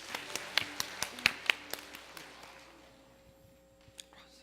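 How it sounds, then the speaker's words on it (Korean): A church congregation claps in a short scattered burst of separate hand claps that thin out and fade within a few seconds, with faint voices underneath. "우리 큰 박수로 한번 격려해 주세요."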